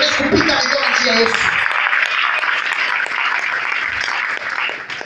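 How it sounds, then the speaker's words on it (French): A church congregation applauds and cheers for Jesus during a French-language sermon, a dense, sustained wash of clapping and shouting, with voices audible at the start. "Est-ce qu'on peut acclamer pour Jésus?"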